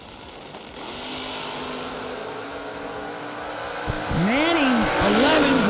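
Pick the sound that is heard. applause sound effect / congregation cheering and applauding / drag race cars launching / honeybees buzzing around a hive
drag race cars launching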